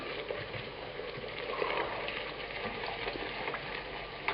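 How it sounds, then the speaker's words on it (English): Wine hitting a hot pan of tomato sauce for pasta alla puttanesca, a steady close sizzle and bubbling hiss with faint stirring scrapes. "I'm going to add the wine. And this will help deglaze it too."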